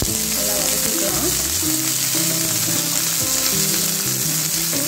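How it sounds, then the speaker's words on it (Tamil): Shallots, green chili and curry leaves sizzle loudly in hot oil in a pan, a dense continuous frying hiss with stirring, under a soft voice and background music. "சின்ன வெங்காயம், ஒரு பச்சை மிளகாய், கொஞ்சம் கறிவேப்பிலை கட் பண்ணி வச்சிருக்கேன். நல்லா வதக்கிக்கலாம்."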